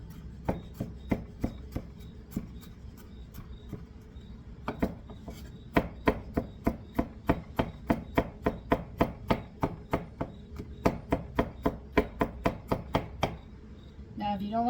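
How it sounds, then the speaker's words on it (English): A knife mincing food very finely on a cutting board for a fusilli salad with salami and sun-dried tomatoes, a steady run of sharp, close chopping taps that speeds into a rapid regular rhythm with no talking. "Mince means to chop extremely fine."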